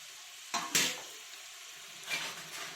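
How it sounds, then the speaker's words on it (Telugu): Onions frying in a large kadai for Hyderabadi chicken biryani give a soft background sizzle, broken by two quick stirring scrapes near the start and another a moment later. "బ్రౌన్ కలర్ వచ్చే వరకు ఫ్రై చేసుకోవాలి ఆనియన్స్."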